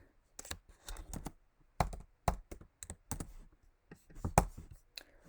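Close computer keyboard typing in irregular bursts of sharp key clicks, with short pauses between clusters of keystrokes while someone writes HTML code.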